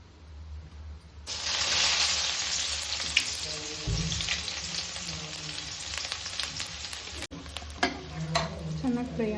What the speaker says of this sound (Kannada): Oil ಕಾದಾದ್ಮೇಲೆ onion.